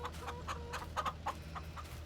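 Farm chickens in Farming Simulator 22 clucking in a steady run of short, bright calls about every quarter second, over a low constant hum, with no voices.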